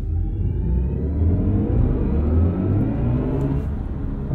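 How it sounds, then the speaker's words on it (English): A 2022 BMW i4 M50 electric car launches hard under launch control with a rising electric motor whine and rumbling tire and road noise. Layered tonal whirs sweep steadily upward as it accelerates, loud and close from inside the cabin. "Foot hard down on the brake, full throttle, launch control active."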